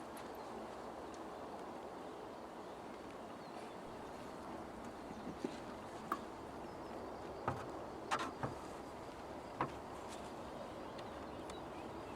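Honey bees hum in a steady, moderate drone around an artificial swarm hive, with a few sharp clicks and knocks from handling the wooden hive scattered through.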